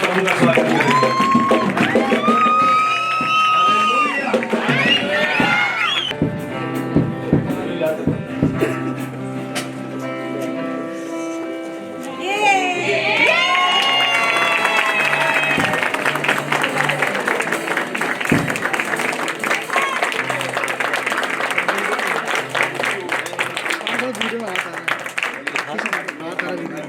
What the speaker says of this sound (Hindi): जोरदार तालियों के साथ प्रभु का स्वागत करेंगे